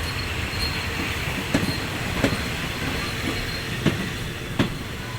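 SRT rapid train 172 from Sungai Kolok to Bangkok Aphiwat, hauled by diesel locomotive 5231, rolls into a station. A steady, loud rumble carries a few periodic wheel clacks throughout.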